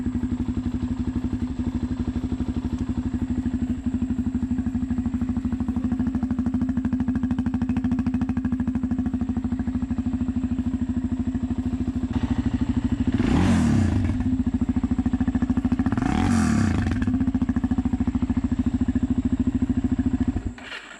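A small Kawasaki-built Arctic Cat engine, shared with the Suzuki LTZ450, idles steadily with a strong low hum, then revs sharply twice in quick succession before settling back and cutting off at the end.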